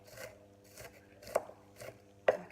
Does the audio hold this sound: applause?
no